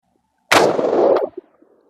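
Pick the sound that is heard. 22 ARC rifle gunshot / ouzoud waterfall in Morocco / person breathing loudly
22 ARC rifle gunshot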